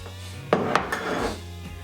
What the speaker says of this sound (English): I'm just going to mix up a batch of automotive Bondo